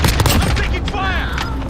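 Dense, loud video game gunfire, a rapid burst of overlapping shots and booms, with a voice talking over the end of the barrage.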